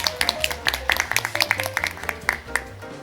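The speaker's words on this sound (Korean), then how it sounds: "큰 박수 다시 한번 부탁드리겠습니다" Audience at a Korean youth-session symposium on Korean peninsula peace gives a round of applause, scattered sharp claps over a steady background of music-like tones and low hum.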